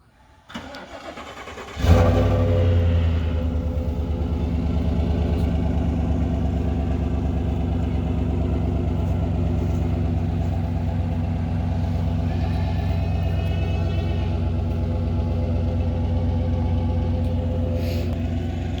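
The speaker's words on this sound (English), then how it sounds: "9 degree cold start. Let's hear." Cold start at 9 degrees of a direct-injection truck engine in Minnesota: a brief cranking whir, then the engine catches with a loud surge and settles into a steady, even idle up close.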